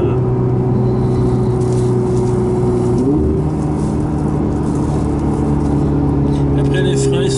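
A car with automatic transmission cruising through town at about 50 km/h produces a steady, loud engine drone and road rumble. The tone shifts once midway, as if the gearbox changes gear.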